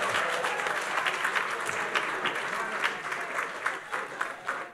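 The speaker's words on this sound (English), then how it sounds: "So give him a round of applause, please." An awards-ceremony audience breaks into steady, dense applause, with many hands clapping continuously at a fairly close, even level throughout.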